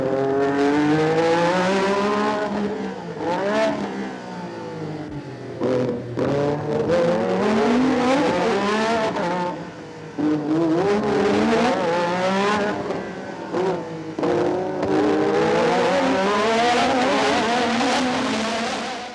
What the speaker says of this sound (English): that exciting ride round Monaco with Alain Prost